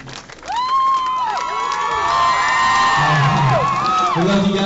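A concert crowd at an anime convention cheers and whoops loudly, with shrill high yells rising and falling over continuous noisy clapping and shouting throughout.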